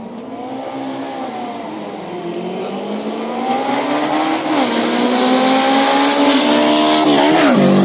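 Suzuki and Honda Goldwing cafe racer motorcycles sprint off the line at the Glemseck 101 event in Leonberg, engines revving hard and rising in pitch through gear changes, loud and close throughout with no talk.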